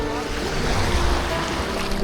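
Sea waves wash onto the beach at Playa Pino, a continuous rushing surf noise mixed with gusty wind buffeting the microphone, close and fairly loud.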